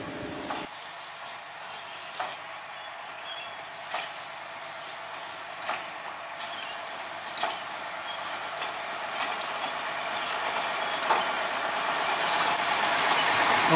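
A locomotive hauling a string of sugarcane-laden lorry wagons on a sugar mill branch line clanks past, with regular metallic knocks over a steady rumble that grows louder toward the end.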